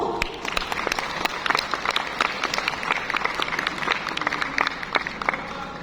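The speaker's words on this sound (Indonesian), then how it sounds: "Kita beri tepuk tangan Bapak Ibu." Audience members at a business and trade chamber event applaud as awards are handed out, a lively mix of crisp individual claps over a steady crowd patter, sustained and fairly close.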